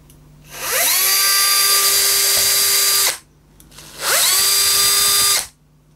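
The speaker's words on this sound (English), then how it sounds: "I'm going to use my drill, and a very thin drill" A power drill with a thin 2 mm bit whines in two bursts while drilling wood, spinning up to a high steady pitch for a few seconds each time, close and loud.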